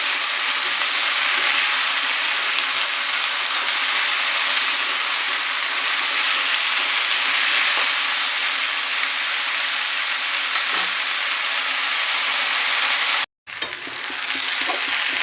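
Potatoes fry and get stirred in a pan with soybean, onion leaves and poppy seed paste, giving a loud, steady broadband sizzle with occasional faint scraping, cutting out briefly near the end.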